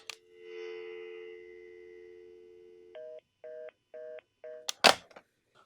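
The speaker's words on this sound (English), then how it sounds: "So we have a dial tone. It immediately goes busy" A homelab VoIP telephone line gives a steady dial tone for about three seconds, then switches to a busy signal of evenly spaced beeps, ending with a sharp click and clatter from the handset.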